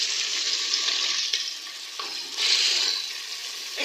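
Mutton tripe frying in a hot spice masala, a steady broadband sizzle with a few brief surges as the pieces settle in the pan, close and continuous with no talk.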